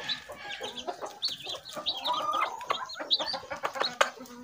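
English Game chicks, one of them black, chirp in quick high peeps mixed with clucking from nearby fowl, a busy steady stream of close calls.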